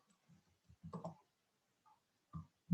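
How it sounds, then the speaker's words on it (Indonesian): Scattered clicks of typing on a computer keyboard during a programming lab session, a few short quiet bursts of keystrokes separated by pauses. "Saya ngetik dulu seperti biasa, oke?"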